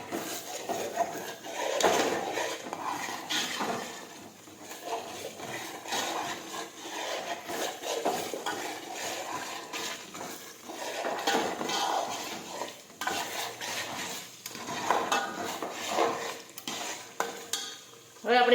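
Spices and garam masala are worked into undhiyu in a pot with repeated scraping stirs, the spoon rasping against the metal in uneven bursts over a faint sizzle.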